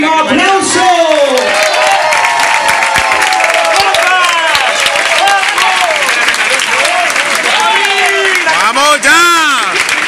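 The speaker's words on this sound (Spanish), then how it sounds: "Así que un fortísimo aplauso." Loud, sustained applause and cheering from an audience after an advanced bachata dance exhibition at a dance school in Leganés, with whoops and shouts mixed into the steady clapping throughout.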